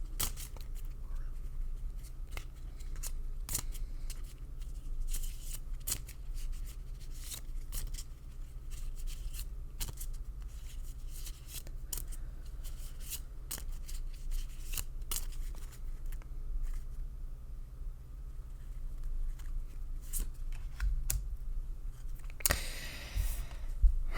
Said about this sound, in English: I am going to shuffle until Spirit tells me to stop